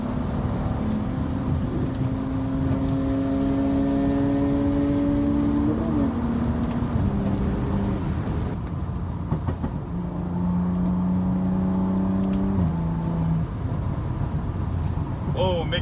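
A modified BMW with a burble tune on a backroad drive, engine droning loudly and steadily throughout with pitch shifts as it pulls through gears, recorded from inside a following car.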